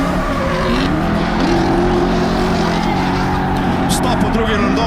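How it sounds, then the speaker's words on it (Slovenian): Drift cars at a Driftstars round in Logatec, including a handbrake correction, with engines roaring loudly and continuously and tires squealing, all under constant commentary. "Stop v drugi rondo, Andraža Anzelca, Tortul, korekcija z ročno zavoro"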